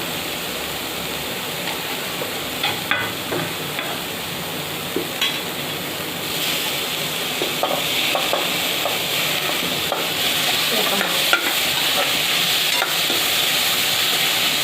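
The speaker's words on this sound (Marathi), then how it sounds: "असं परतून घ्यायचं तेलामध्ये।" Okra sautés in hot oil for a spicy bhindi dish, giving a continuous close sizzle with scattered scraping and clinking from stirring, and no talking.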